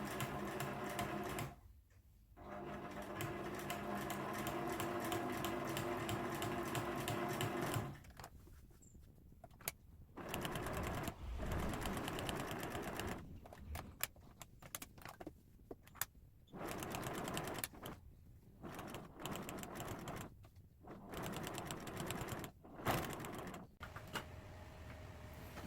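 A home sewing machine fitted with a walking foot quilting in the ditch along the seams of a patchwork table mat, whirring in steady runs broken by short pauses and stops, close and fairly quiet.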